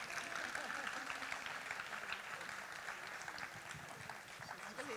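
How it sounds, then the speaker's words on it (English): Audience applause fills a Sindhi book launch hall, a steady dense clapping that holds at an even level throughout, with some voices mixed into the crowd noise. "I urge you to please clap your hands"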